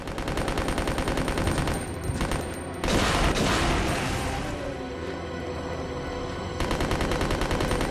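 Sustained automatic submachine gun fire in the Resident Evil CVX video game, rapid dense bursts running nearly continuously with a brief break, loud and close with no talking.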